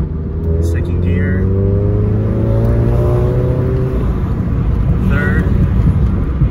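A car with an air intake mod pulls hard through first and second gear, loud, close engine tones climbing steadily before dropping at each shift, with a voice faintly underneath.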